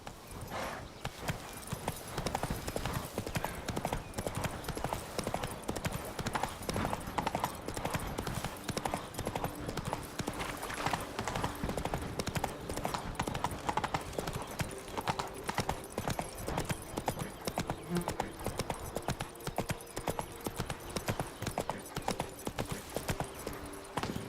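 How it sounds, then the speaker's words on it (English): Horse hooves clip-clop steadily in The Witcher 3: Wild Hunt, a brisk, continuous rhythmic trot at moderate volume with a faint whinny at moments. "A ver, caballo idioto."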